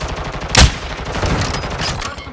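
Gunfire in the Call of Duty Modern Warfare II video game, one sharp loud shot followed by a dense, rattling mix of battle noise that carries on for the rest of the short stretch.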